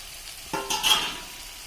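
Egg vadis are dropped into a hot pan and start frying, giving a sudden close burst of sizzling that swells for about half a second and then settles to a softer hiss.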